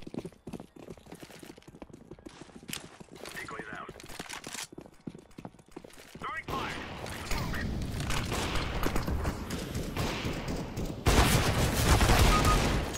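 Gunfire in a CS:GO match, with rapid clusters of close shots and game clatter growing denser and louder toward the end while someone talks over it.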